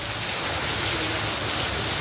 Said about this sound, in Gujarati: ફાઇનલી ગાઈસ વરસાદ આવી ગયો